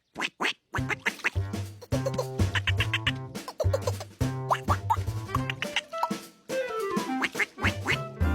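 Cartoon ducks quack in a busy, rapid chorus of nasal honks, with bouncy plops and boing-like effects running continuously throughout.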